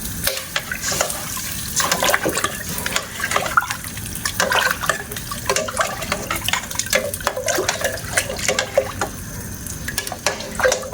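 Water is poured into a cooking pot of macaroni soup, a steady close splashing and gurgling stream that runs loud and continuous with irregular sloshing.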